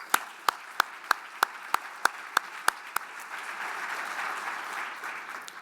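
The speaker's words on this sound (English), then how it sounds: "Let's give them a big round of applause" Conference audience at an opening session applauds the organizers: a run of about ten sharp, evenly spaced claps at first, then spreading into a steady wash of crowd applause that carries to the end.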